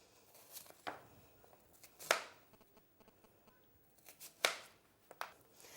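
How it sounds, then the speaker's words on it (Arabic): A knife slices an onion into wide wedges for shish tawook, giving a few sharp, separate cuts against a board with quiet pauses and soft handling noises between them. "دي بصلايه هنقطعها كده ايه، يعني اجنحه، بس اجنحه عريضه شويه"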